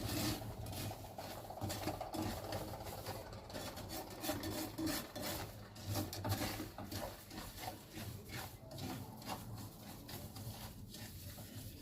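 Semolina being stirred and roasted in a pan for Turkish semolina halva, a steady gritty scraping and rasping of a spoon through dry grains, continuous and close, with no talking.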